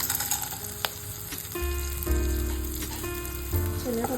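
Chana dal frying in a little oil with cumin, a soft close sizzle with occasional stirring taps and a few faint clinks.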